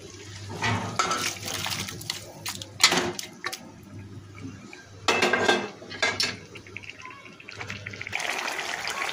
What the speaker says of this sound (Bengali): এখানে সিদ্ধ করা লাউগুলো মাছের ভিতরে ঢেলে দেবো।